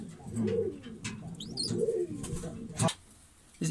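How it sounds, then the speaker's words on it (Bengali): Moyna breed pigeons at a pigeon farm in Bangladesh coo nearby in soft, low, repeated rolling calls, with a couple of brief knocks and rustles between them. "দর্শক দেখতে পাচ্ছেন এটা ময়না জাতের কবুতর"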